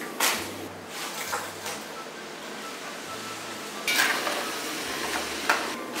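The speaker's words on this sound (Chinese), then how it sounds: "土豆打上一点生粉，把它放到锅里炸" Potato pieces coated in starch deep-fry in hot oil in a wok, making a constant close sizzle and bubbling, with a few brief scraping stirs and no talking.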